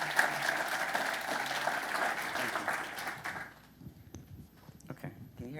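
An audience applauds to welcome a speaker at a morning event, a steady wash of clapping for about three seconds that fades out, followed by a few faint handling knocks in a quieter room.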